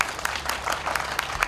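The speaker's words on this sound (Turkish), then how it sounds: "Yiğitbaşı Çavdar'ı kapıda alkışlarla karşıladı" A group claps to welcome taekwondo athlete Çavdar at a doorway in Afyonkarahisar, a close, steady patter of many hands with small peaks, with no voices over it.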